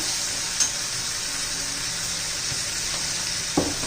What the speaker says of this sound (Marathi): छान व्यवस्थित आपण मिक्स करूया चांगला मसाला परतून घेऊया